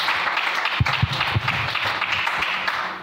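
Church congregation applauding and cheering, a moderate sustained clapping with a few louder claps standing out, distant voices mixed in.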